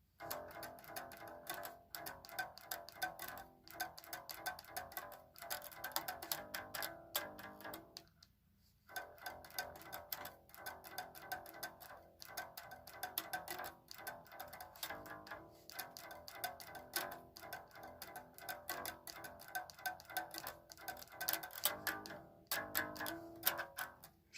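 A quiet electric bass plays an intro riff through a chorus and distortion effect, repeating in a busy rhythmic pattern with one short pause partway through.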